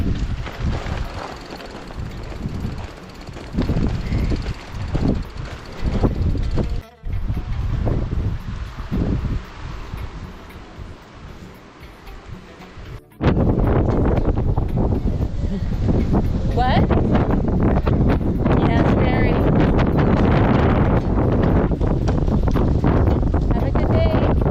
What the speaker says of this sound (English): just got really, really, really windy